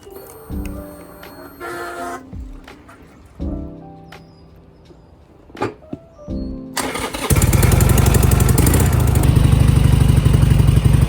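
A motorcycle engine is cranked several times with clattering, sputtering attempts and pauses between. It then catches and settles into a loud, steady idle close by.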